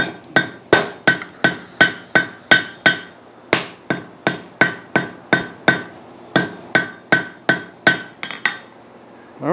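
Steel hammered on an anvil while forge welding at full welding heat, a steady run of about twenty sharp, loud ringing blows in even rhythm, alone with no talk.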